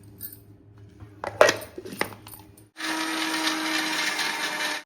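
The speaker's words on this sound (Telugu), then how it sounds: "ఇలాచి ఎండు కొబ్బరి ఇవి మిక్సీకి పట్టేసుకున్నాము" Dry coconut and cardamom are ground in a mixer grinder jar. A few clinks and knocks of handling come first, then a loud, steady whirring grind runs to the end of the clip.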